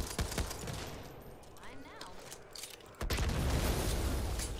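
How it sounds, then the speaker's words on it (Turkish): An M249 machine gun fires in the zombie shooter Back 4 Blood, with rapid bursts of automatic fire and a louder, denser stretch of sustained shooting near the end. "M249 ya benim silahım abi."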